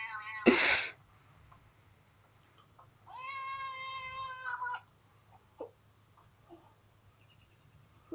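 A cat in a played video gives a strange, drawn-out meow-like call with a stacked tonal sound, preceded by a short sharp burst like a sneeze, with small faint noises afterwards over a low steady hum.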